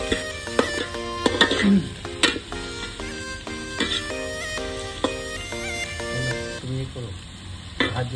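Sliced onions sizzling in about a cup of hot oil for Hyderabadi egg biryani, with a steady frying hiss and repeated stirring clinks and scrapes, close and fairly loud, with no talking.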